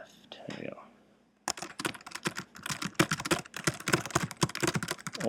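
Rapid typing clatters on a computer keyboard in a steady, dense run of close keystrokes, preceded by a brief quieter pause, with soft whispery sounds mixed in.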